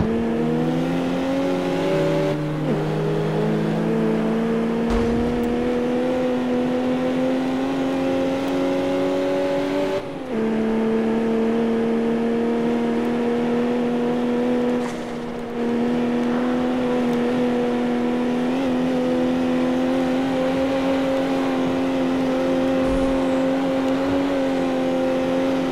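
Engine of a BMW M3 E92 convertible in the Carx Street video game, a loud sustained engine drone with steady tones that climb and shift as revs change, with short dips at gear changes across the run and no talk.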